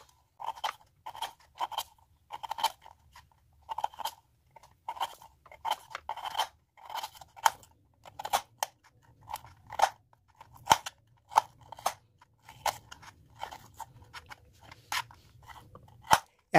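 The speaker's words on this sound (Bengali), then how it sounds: "আমি এবার এই সমস্ত আমলকিগুলিকে একটি ছুরির সাহায্যে কুচি কুচি করে কেটে নেব।" Raw amla (Indian gooseberry) being finely chopped with a knife on a board: a steady series of crisp, quiet taps and crunches in an irregular rhythm, close and clear with no talk.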